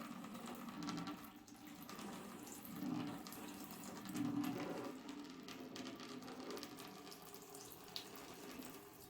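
Freshly pressed apple juice pours from a fruit press into a large bucket, a steady splashing trickle that swells and eases, faint and close.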